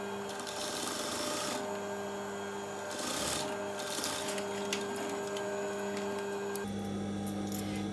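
A sewing machine stitches a seam on a halterneck dress in steady whirring runs, pausing and restarting a few times, close and fairly quiet with faint handling noises between.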